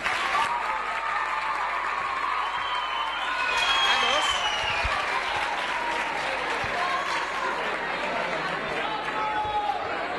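An audience at a school youth festival in Alcalà de Xivert claps steadily and loudly, a dense sustained applause with some cheering and chatter, continuous throughout.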